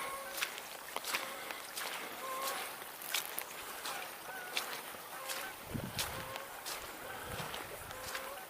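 Canada geese honking along a lake shore, scattered calls at moderate distance over steady outdoor water and wind ambience, with a low rumble near the end.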